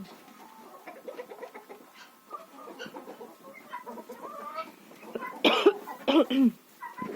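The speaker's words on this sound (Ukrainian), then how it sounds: "Я вибачаюся за свій кашель." Bantam chickens cluck softly in the background in a frosty winter yard, then a couple of loud, close coughs break through near the end.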